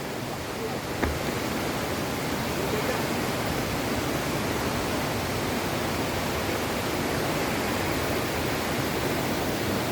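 River and waterfall at Longfeng Waterfalls in Nantou, Taiwan, rushing in a steady, dense, continuous roar with no breaks, close and fairly loud.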